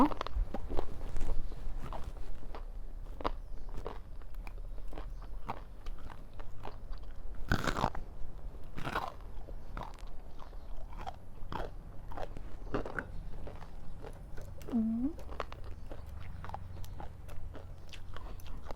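Thin, crispy khao jee (grilled sticky rice) being bitten and chewed up close, with repeated sharp crunches and crackles spread through the stretch over a low background rumble, without talk.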